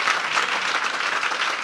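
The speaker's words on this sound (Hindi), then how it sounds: "यीशु के जलाल के लिए हम जोरदार तालियां" Church congregation at a Palm Sunday sermon breaking into loud applause, a thick continuous roar of many hands clapping together, steady and close throughout with no voices on top.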